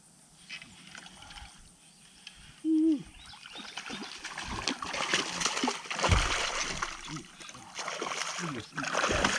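A hooked bass splashes on the surface after striking a frog lure in heavy timber, with a loud thrashing burst midway and ongoing water noise and rustling around it.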